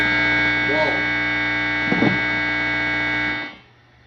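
An EVH 5150 III 50-watt 2x12 EL34 amplifier on channel 2 gives off a loud, steady buzzing hum with harsh overtones, broken by a couple of brief scratchy bursts. The hum then cuts out near the end.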